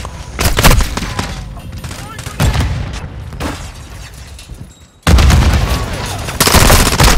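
Gunfire in Call of Duty: Modern Warfare II rattles in loud, rapid bursts with booming impacts, pausing briefly before a sudden heavy volley resumes near the end, close and intense, with speech mixed in.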